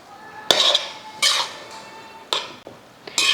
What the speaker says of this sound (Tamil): போட்டு நல்லா கிளறி விட்டுறலாம்.